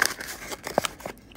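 A giant paper shopping bag rustles and crinkles in short bursts, with a few sharp crisp crackles, close up and fairly quiet.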